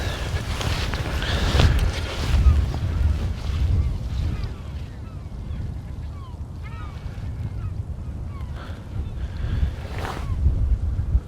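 Breezy outdoor wind buffeting field microphones at a solar setup beside surface water, a continuous low rumbling roar that swells and eases in gusts, with faint voices now and then.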